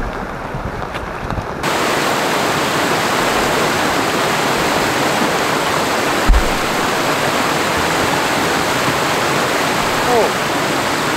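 Mary Vine Falls on Vancouver Island roars as a steady, loud, broadband rush of falling water, starting after a brief quieter moment and continuing unbroken close by.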